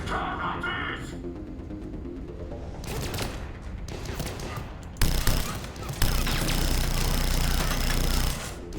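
SMG fire in Mass Effect 3, long rapid bursts rattling loud and close, one stream giving way to another with brief gaps between, over a busy combat din.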